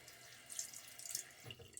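A tap runs steadily into a sink as water is added to shaving lather, a soft continuous splashing heard close and alone, with a brief louder gurgle toward the end.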